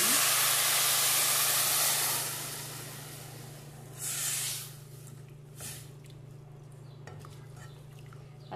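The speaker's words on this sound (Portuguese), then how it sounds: "Deixa eu dar uma fritadinha aqui no arroz e a gente já vem com a água." Loud, sizzling hiss of rice frying in a pan, with water then added, strongest at first, then settling into a quieter sizzle with a brief surge midway.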